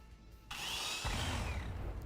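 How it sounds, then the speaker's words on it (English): Chainsaw noise in the video game Arknights, a steady buzzing and revving power-tool whine lasting about a second and a half, fairly close and alone. "Chainsaw noises."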